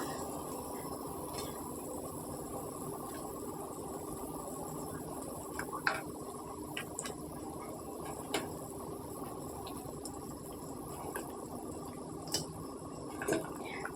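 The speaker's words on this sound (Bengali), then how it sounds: "আমার মাছের ঝালটা ফুটে এসছে" Puti fish curry (tel jhal) boiling in a pan gives a steady, close, soft bubbling hiss with a few faint pops and clicks scattered through it. No one talks.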